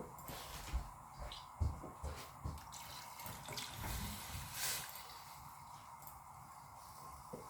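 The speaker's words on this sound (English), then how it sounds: "I'm going to add a little bit more water" Water pours steadily from a tap into a pot of vegetable soup, a soft, even rushing with small splashes, close but quiet, with no voices.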